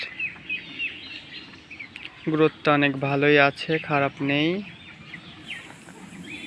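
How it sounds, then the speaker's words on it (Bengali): Young farm chickens on their twentieth day chirp in a thin, steady cheeping chorus throughout, crowding around a water container, while someone talks over them in the middle of the clip. "মুরগিগুলো খাবারের পাত্রের থেকে পানির পাত্রের কাছে ভিড় বেশি, সবগুলোই পানি খাচ্ছে"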